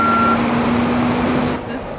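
A truck's reversing alarm beeps in a steady high tone over loud engine rumble, close by, before the beeping cuts off.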